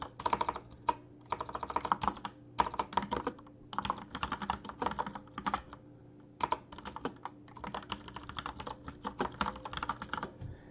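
Typing an email subject line on a computer keyboard: rapid, close, fairly quiet key clicks in bursts separated by short pauses.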